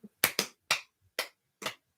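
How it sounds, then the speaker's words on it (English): A single hand clap rings out, quick and close, followed by a few more sharp claps in an uneven rhythm, each one a crisp percussive burst standing alone in an otherwise quiet room. "Yeah, clap."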